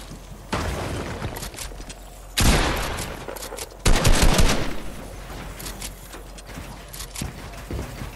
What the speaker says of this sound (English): I just shot at your wall